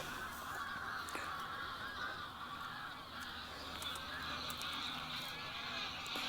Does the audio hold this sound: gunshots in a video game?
no